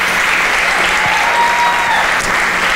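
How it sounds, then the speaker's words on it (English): Sustained, dense crowd applause for pageant winners at a Miss Africa Texas event, steady and loud throughout with a faint tonal whine running beneath the clapping. "Please give them a round of applause."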